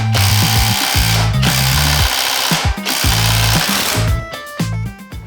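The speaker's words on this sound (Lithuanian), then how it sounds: "Pabandysiu atsukti žvakę." A power tool rattles loudly and close while a spark plug is loosened from a motorcycle engine, running in rapid hammering bursts of a few seconds each with brief pauses between them.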